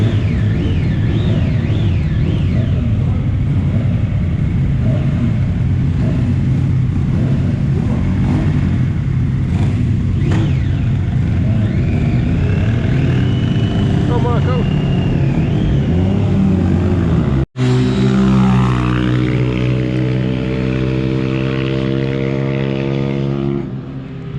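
Racing motorcycles at Mallory Park, one overtaking another, loud engine whine rising and falling as bikes pass close by, with a sharp cut partway through followed by a steadier, droning engine note.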